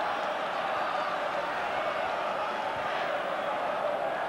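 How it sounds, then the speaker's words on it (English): Rugby stadium crowd at a 1985 Great Britain versus New Zealand test match, a steady, dense roar of thousands with chanting blended in, continuous and distant-sounding throughout. "And huge roars going around this ground now."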